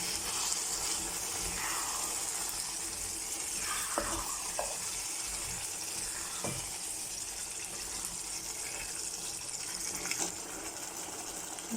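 Potatoes being stirred into chicken in a hot pan: a constant hiss of frying with occasional soft scrapes and clinks of the spoon against the pan, fairly quiet and steady.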